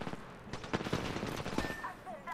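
Rapid gunfire in the first-person shooter Apex Legends, a quick burst of shots mixed with game effects while players talk over it.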